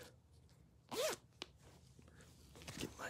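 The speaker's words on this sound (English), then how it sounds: "Get my zippers ready." A clothing zipper is pulled shut in one quick, close burst, with a shorter zip moments later and faint handling rustle around it.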